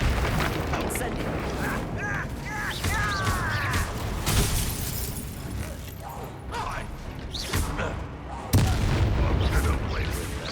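Incendio fire spell blasts from Hogwarts Legacy combat, with booming, crackling bursts and impacts over a steady battle din, mixed with voices and a sharp heavy hit near the end.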